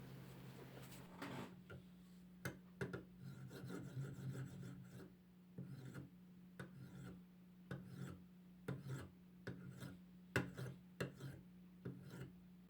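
A sharpened blade scrapes old printed images off a plywood sheet in a run of close, rasping strokes, each pass short and gritty, separated by brief pauses, with a steady low hum underneath.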